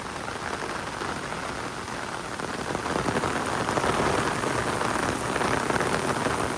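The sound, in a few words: rain falling at a beach on Koh Kradan island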